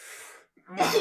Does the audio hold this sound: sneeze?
yes